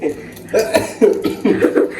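A few sharp, close coughs in quick succession, one after another over about two seconds.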